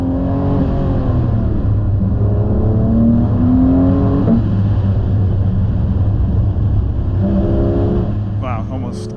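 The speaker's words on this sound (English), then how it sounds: "So here, you can listen to the car here." A car's engine drones steadily as it drives a winding Great Smoky Mountains road, loud and close, its pitch rising and falling with gear and throttle changes, and a voice talks over it.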